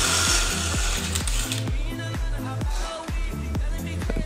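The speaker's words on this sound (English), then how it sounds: "gotta make sure you got the nice titanium bits to drill through that steel." A drill with a titanium bit grinds through steel in rhythmic bursts, its harsh motor whine repeatedly dipping and recovering as the bit bites, with scraping and clanking throughout.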